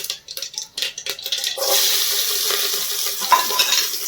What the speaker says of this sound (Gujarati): રાઈ ફૂટી જાય એટલે મરચા વઘાર કરી નાખીએ આપણે